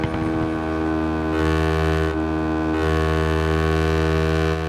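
Scooter engine in the RIDE 6 racing game, a loud continuous droning hum with steady tonal pitch and slight shifts as the throttle changes, holding on without pause.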